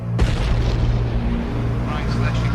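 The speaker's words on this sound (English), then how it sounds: "Explosion and fire on the Piper platform." A deep, heavy boom rolls out from the explosion and fire on the Piper Alpha oil platform in the North Sea in 1988, a loud sudden blast that sustains into a dense rumbling roar.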